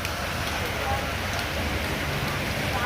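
Rain falls steadily in Dharan, Nepal during the monsoon, a dense, even wash of drops hitting surfaces nearby without pause.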